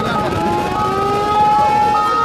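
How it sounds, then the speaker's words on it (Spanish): An ambulance siren wails loud and steady through a street protest in Argentina, its rising and falling tones sustained across the whole stretch with vehicle and crowd noise beneath. "Vamos a dejar pasar la ambulancia."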